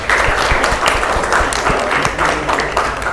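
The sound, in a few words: applause for the students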